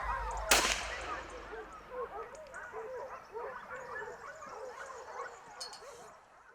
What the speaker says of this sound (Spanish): escucha las ladras cada vez más cerca